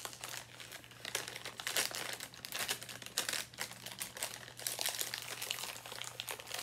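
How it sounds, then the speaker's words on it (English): Crinkling and rustling of a plastic wrapper being handled and torn open, a series of quiet, irregular crackles close by. "So they come in these little packages here. Let's open it up and see what we get."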